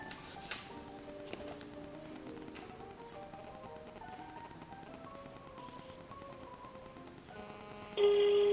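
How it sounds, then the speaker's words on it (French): A phone rings out while calling a TK102b GPS tracker, a faint melodic ringback sequence of stepping tones, ending in a louder tone burst. "donc ça sonne"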